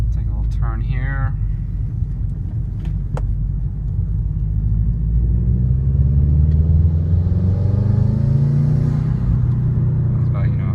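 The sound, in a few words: Subaru WRX Stage 2 Plus Cobb tuned accelerating at half throttle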